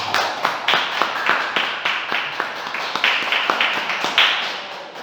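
A church congregation at a Thursday worship service claps in steady rhythmic unison, a quick even beat of crisp hand claps that carries on throughout.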